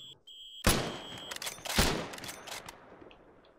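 Rifle fire in Arma 3 during a pre-WW2 marksman mission: a loud close gunshot with a long rolling echo, then a second shot and more distant cracks fading out.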